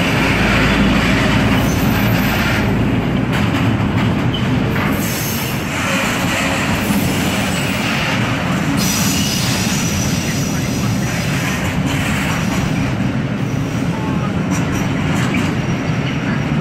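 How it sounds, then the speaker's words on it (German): A freight train rolls through continuously, a long rumbling clatter of wagons with occasional wheel squeal, loud and close throughout, while voices talk faintly underneath. "es fährt gerade ein Güterzug durch"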